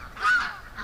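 A single short, nasal quack from a duck rises and fades over about half a second, fairly close and clear above low background noise.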